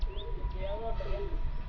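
Pigeons in a rooftop loft setup coo softly with low throaty murmurs over a steady low background rumble, a faint chirp or two mixed in, with no clear talk.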